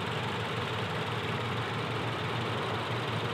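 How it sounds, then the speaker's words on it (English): A 2017 Subaru BRZ's 2.0-liter horizontally opposed four-cylinder boxer engine idles steadily and evenly at close range, with a low rumble and a constant hiss and no change in pitch. "this is a horizontally opposed or boxer engine"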